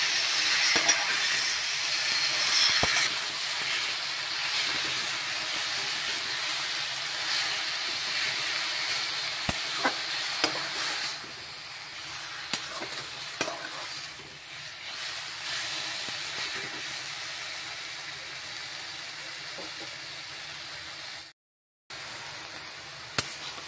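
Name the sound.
Malabar spinach (puroi saag) frying and being stirred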